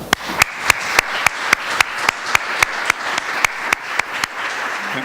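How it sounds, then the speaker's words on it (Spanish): A lecture audience in Ávila applauds to congratulate a speaker, a sustained wash of many hands with individual claps cutting through in a steady beat, loud and near, with no speech over it. "Enhorabuena para Antonino, un aplauso"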